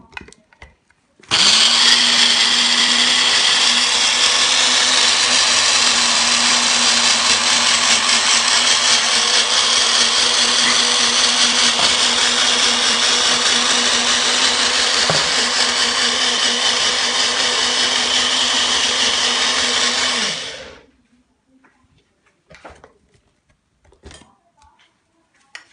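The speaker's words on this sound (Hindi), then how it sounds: "इसको अच्छी तरह से बंद करके ब्लेंडर में अब मैं इसको ब्लेंड कर दूँगी।" An electric blender blending coriander chutney with a little water: a loud, steady, high-pitched whirring roar that starts abruptly, runs evenly for about twenty seconds, then winds down and stops, followed by a few faint clicks.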